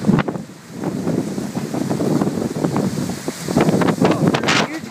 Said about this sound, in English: Oh, there's a huge gust.